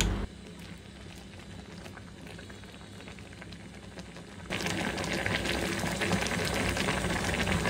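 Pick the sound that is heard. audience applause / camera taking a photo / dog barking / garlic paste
garlic paste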